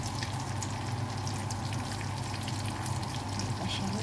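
Tuyo, salted dried fish, frying in hot oil, a steady crackling sizzle that stays even and close throughout, without speech.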